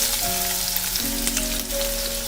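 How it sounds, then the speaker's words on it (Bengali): Chopped onion hits hot oil in a pan, giving a loud, steady, close sizzle that crackles and spits evenly from start to finish. "প্রথমেই আমি এর মধ্যে দিয়ে দিচ্ছি পেঁয়াজ কুচি।"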